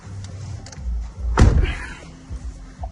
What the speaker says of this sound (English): we're going to close the door.